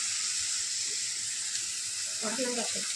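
Spices and sambar powder sautéing in a pan for a snake gourd rice dish, heard as a steady, close hiss of sizzling throughout, with a brief voice near the end.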